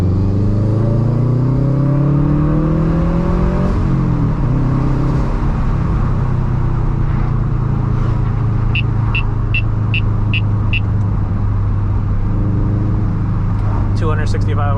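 A 2011 Subaru WRX hatchback with a 265-horsepower engine and five-speed manual drones steadily from inside the cabin on twisty back roads, its pitch rising then settling after a shift, with faint clicks and squeaks late on.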